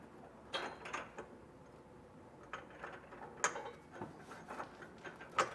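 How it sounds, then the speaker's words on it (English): Flange nuts are threaded by hand onto trailer hitch bolts under a 2021 Ford Bronco Sport, producing faint, sparse metallic clicks and small scraping ticks spaced irregularly over a quiet background. "take a flange nut, and get at least one started on each side hand tight."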